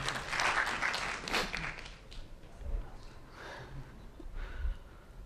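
Audience applause in a conference hall, a brief burst of clapping that starts fairly loud, then thins into scattered claps and soft noises.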